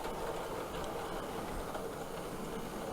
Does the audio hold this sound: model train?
yes